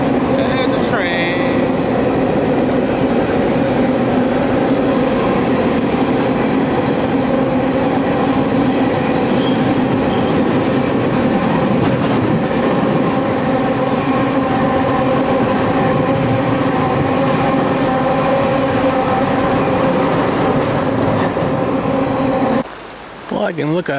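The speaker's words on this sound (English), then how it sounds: "There's a train." A train rolling along a rail line beside a hiking trail, a steady loud continuous rumble and clatter of cars passing close by for the whole stretch, with a brief high squeal near the start.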